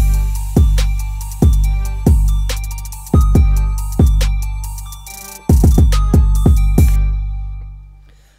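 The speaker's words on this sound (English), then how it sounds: "take an open hi-hat sound or something that's a little bit different and put it on just a few beats" A trap beat programmed in FL Studio, with booming 808 kick hits at a steady rhythm and crisp hi-hats, plus an added open hi-hat on a few beats, loud and upfront with no voice.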